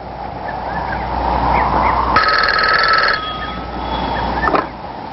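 A telephone bell rings loudly for about a second over a steady low hum and street-like background noise, with no talking during the ring.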